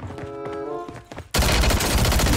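Loud, sustained burst of rapid gunfire from players shooting in a video game, a dense continuous barrage erupting abruptly after a quieter stretch of mixed game sounds.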